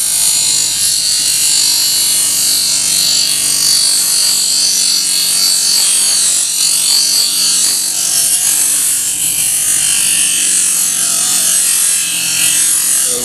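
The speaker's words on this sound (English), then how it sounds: "What I'm doing is I'm angle grinding at a 45 on that angle, and then I'll go along and round it afterwards." An angle grinder fitted with a regular grinding wheel cuts continuously at a 45-degree angle on steel stock, a loud, steady, close high-pitched whine and grind with no pauses.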